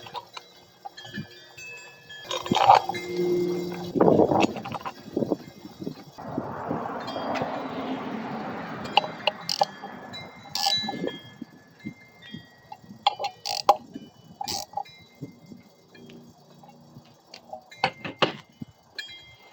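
A brake rotor being bolted onto a go-kart wheel hub, with metallic clinks and taps, tool rattles and a stretch of ratcheting or scraping, close and intermittent.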